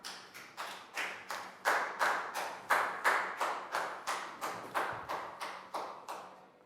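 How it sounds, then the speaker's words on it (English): Steady, even clapping in a classroom math lesson, a single pair of hands striking about twice a second in a regular rhythm, close and moderately loud with no talking. "Big round of applause for Pat."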